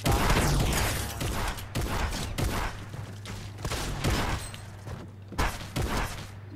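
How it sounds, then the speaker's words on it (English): Heavy shotgun blasts in a shooter video game, comparing combat and pump shotguns: a rapid string of loud, sharp bangs at irregular intervals over a constant low hum, with no talking. "Heavy shots."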